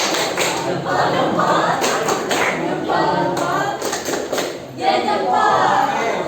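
An eleventh-grade class performs a thumb clap cheer, a rapid patterned run of claps and chanting voices filling several seconds, loud and close, with students calling out together.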